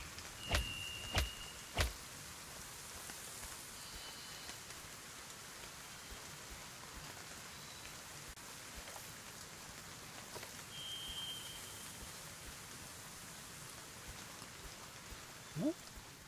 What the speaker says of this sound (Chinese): 很爱下雨，雨下太久了吧？